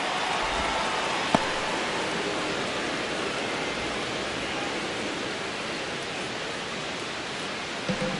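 A broad, steady crowd roar fills Dodger Stadium in a baseball video game, an even wash of noise throughout with a single faint tap partway in.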